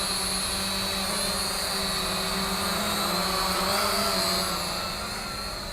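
An Eachine E511S brushed drone, a Mavic Air clone, holds a steady high-pitched motor whine with buzzing propellers close by, continuous and fairly loud, fading slightly at the end.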